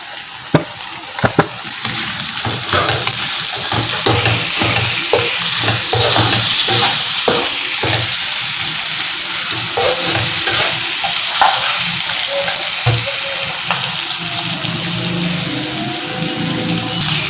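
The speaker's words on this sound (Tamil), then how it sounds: "இப்போ தக்காளியை போடுறேன்." Tomatoes fry and sizzle in a pan while being stirred for mutton biryani, giving loud, continuous crackling with repeated scraping strokes and no talk.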